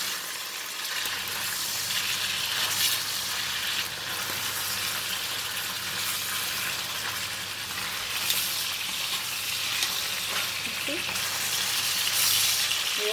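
Pork shoulder sears in a hot pan with a loud, steady sizzle and crackle that runs throughout, with faint stirring noises and a low background hum.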